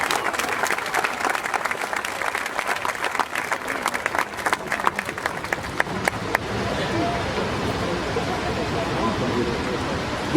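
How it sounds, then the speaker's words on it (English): A crowd at an outdoor statue dedication for boxer Larry Holmes applauds football great O.J. Anderson: dense clapping with sharp individual claps builds and then settles into a steady roar of applause and crowd noise. "How about a big round of applause for Mr. O.J. Anderson."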